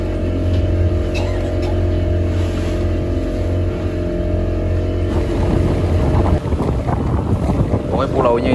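A boat engine drones steadily at sea near a barge off Jakarta, heard close under strong wind buffeting the microphone, with the churn of water growing rougher partway through.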